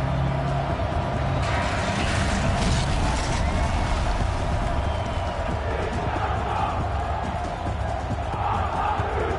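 A crowd cheers and shouts in the video game Horizon Zero Dawn, a broad, loud wash of many voices that surges early and then stays as a sustained roar over game ambience.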